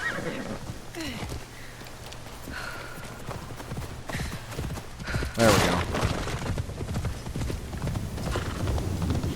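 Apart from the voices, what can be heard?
horse hooves clip-clopping in video game Assassin's Creed Shadows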